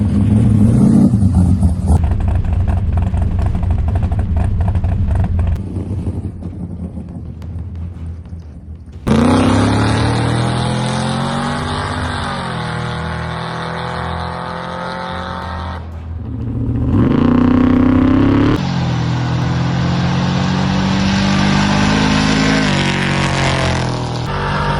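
Cars drive and rev hard on the road outside a gate at Mansfield, with engines roaring loudly and close, climbing through gears in repeated surges and passing by, with no speech over them.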